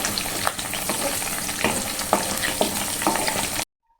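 Dried red chillies and coarsely crushed garlic spluttering in hot oil for tempering, a loud close sizzle with scattered pops and stirring scrapes, cutting off abruptly to silence near the end.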